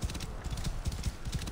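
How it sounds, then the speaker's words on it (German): Horse hooves clip-clopping at a steady walking rhythm in Assassin's Creed Origins, close and fairly loud, with no talking over them. "Und da steht einfach so ein Pferd rum."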